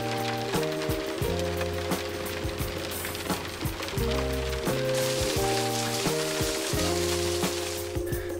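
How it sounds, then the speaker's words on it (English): Rain patters steadily on the roof of a school bus being converted, a fine hiss that swells slightly partway through, layered under loud tonal music with a stepping beat. "It's raining again."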